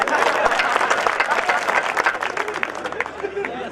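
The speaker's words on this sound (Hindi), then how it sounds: "एक बार जोरदार ताली बजाओ सर के लिए।" An audience at a Hindi comic poetry gathering applauds, a dense burst of clapping that carries steadily and then thins toward the end, heard close and fairly loud.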